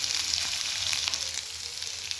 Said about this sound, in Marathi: तर मी आता हे कांदा चांगला भाजून घेणार आहे